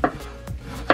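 A knife chops a red onion into thin slices on a board, three distinct close cutting knocks within a second, with no talking.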